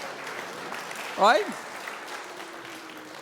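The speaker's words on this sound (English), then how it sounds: "Give yourself a round of applause for smiling." A church congregation applauds during a homily, a steady wash of clapping running the whole time beneath one short spoken word.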